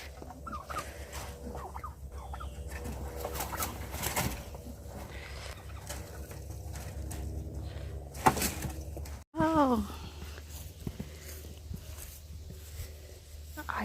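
Chickens and other fowl calling in a two-level backyard coop, with gobbling and clucking calls scattered throughout and a person talking over them.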